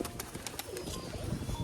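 Domestic pigeons cooing outdoors on a windy day, soft low coos in short repeated pulses under steady wind and background noise, with a faint flutter of wings.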